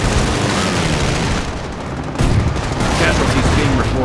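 Bombing and gunfire in the video game Company of Heroes, a dense, continuous battlefield roar of shots and blasts with a sharp jump in loudness midway.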